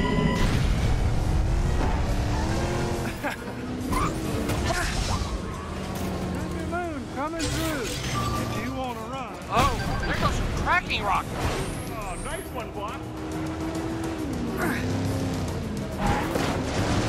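Race cars accelerate in Cars 3: Driven to Win, engines whining and swooping in pitch as they rev, mixed with crashes, booms and game effects, with a voice talking over the action.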